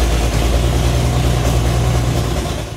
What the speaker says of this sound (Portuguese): olha só o ronco do motor do companheiro dele quando o assunto é competir